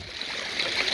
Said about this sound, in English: we've got this water coming down